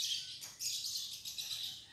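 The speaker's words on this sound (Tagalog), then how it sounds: "Ano yung mga ibon na yan?" Birds chirping outdoors in the Philippines, a dense, bright chorus of high tweets with short pulses, fairly close and steady, with no talk.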